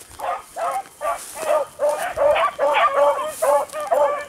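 A dog barks in a rapid, steady series of about a dozen yipping barks, fairly close and alone.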